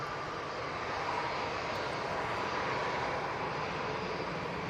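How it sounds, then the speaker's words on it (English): Etihad Boeing 777-300ER jet approaching in gusty conditions, a continuous, distant-sounding engine drone with broadband wind-like hiss, steady and unbroken throughout, no voices. "Etihad now coming into a view. 777-300ER."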